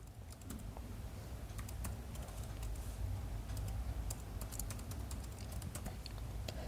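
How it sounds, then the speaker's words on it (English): Rapid, steady clicking of a computer keyboard as a name and email address are typed, close and quiet, with no talking. "So I'm going to type my name and then my Gmail ID."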